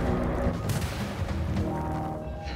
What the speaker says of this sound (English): I was shooting between its legs.